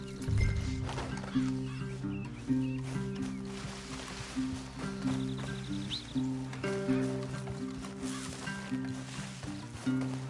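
Horse hooves clip-clop steadily over a sustained, layered musical drone in Red Dead Redemption 2, with an occasional whinny and faint background activity.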